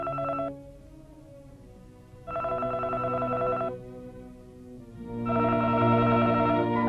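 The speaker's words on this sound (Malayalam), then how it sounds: "അവർ ഫോണിൽ വിളിക്കുന്നു" Telephone keypad tones in an old Malayalam film, in three separate bursts with short pauses between them, clear and close with no talking.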